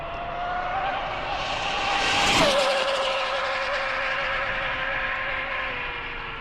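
A low-voltage RC speed-run car on a 4S 5000mAh battery screams past at high speed, its whining motor pitch climbing as it approaches, peaking close by, then dropping sharply and fading as it races away.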